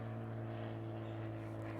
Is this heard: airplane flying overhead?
yes